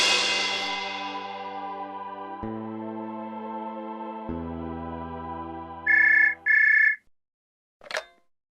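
A fading piano-like chime gives way to an electronic phone ring, two bright buzzy trills in quick succession, then a short ping.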